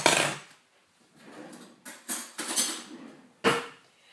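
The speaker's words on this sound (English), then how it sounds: "So I'm adding just plain flour, any plain flour will do. 3 spoons of plain flour." Plain flour being spooned into a mixing bowl for blueberry bun dough: a spoon scrapes and taps against the bowl in a few separate bursts, close and fairly quiet, with no talking.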